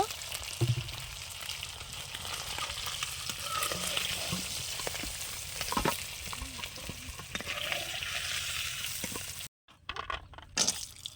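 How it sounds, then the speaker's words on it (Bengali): Steady sizzling of bori (lentil dumplings) frying in hot oil, with occasional stirring clinks and a brief pause near the end before the crackle resumes. "বড়িগুলো আমি ভেজে নেব একটু লাল লাল করে ভেজে নেবো"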